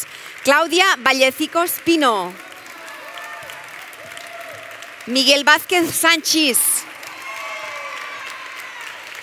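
An audience claps warmly at a 2020–2021 academic graduation ceremony. The applause swells in steady bursts between names read aloud over a loudspeaker, then carries on in a softer, sustained patter.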